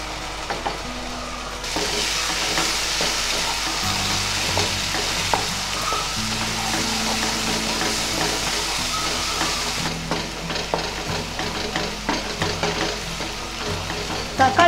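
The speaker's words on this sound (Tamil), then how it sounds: "தக்காளியும் நல்லா வதக்கணும்" Tomato paste sizzles and fries in a pan while being sautéed and stirred for a paneer gravy, a continuous close-up crackle with occasional scraping stirs.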